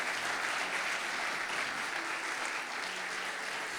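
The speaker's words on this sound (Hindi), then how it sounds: "जोरदार तालियां यीशु मसीह के खून के लिए" A church congregation at a Sunday sermon claps together in a steady, fairly quiet wash of applause that holds evenly from start to finish, with no voices over it.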